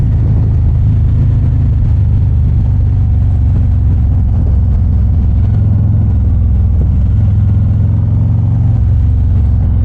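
A 2024 Harley-Davidson Street Glide rides through the rain. Its engine makes a loud, heavy, unbroken low rumble close by, blended with wind and road roar.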